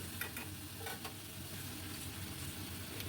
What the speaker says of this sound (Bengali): খুব ভালো করে ভাজবো আর গ্যাসের ফ্লেমটাকে একদম হাইতে রাখবো, কারণ একদম চাইনিজ রান্না হচ্ছে।